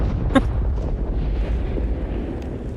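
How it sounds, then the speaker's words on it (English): A distant explosion in the Star Citizen video game booms once near the start, then a deep, rumbling roar rolls on at a steady level through the rest of the clip. "if you're far away and you hear the explosion, you know a person probably died"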